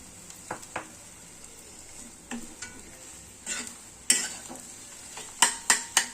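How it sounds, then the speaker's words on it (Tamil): Eggs fry in oil in a kadai, a soft continuous sizzle punctuated by scattered sharp clicks and scrapes of a utensil against the pan, with louder clatters near the end; no voices. "ஒரு ஆறு முட்டை உடச்சி ஊற்றினேன்"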